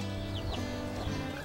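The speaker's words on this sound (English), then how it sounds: "Like the chicken with her chick." A mother hen clucks with her chick on a farm, a close, steady stream of soft clucks and faint peeps over a constant background hum.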